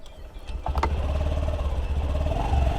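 Honda Activa 6G 110cc scooter engine catching after a brief starter whir, then settling into a steady, low idle rumble close by with no talking.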